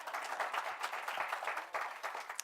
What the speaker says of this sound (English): Yep, you can clap.